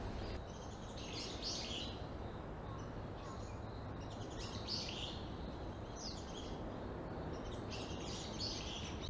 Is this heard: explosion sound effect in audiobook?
no